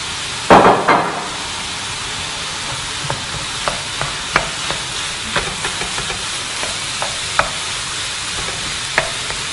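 Ground pork belly for a bolognese sauce sizzles in a pan, a steady frying hiss broken by scattered sharp clicks and scrapes of stirring, with a louder clatter as the meat goes in at the start.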